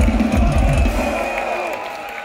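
A metal concert audience in Budapest cheers and screams in a sustained wash of crowd noise that slowly fades, with faint stage hum and low rumble beneath.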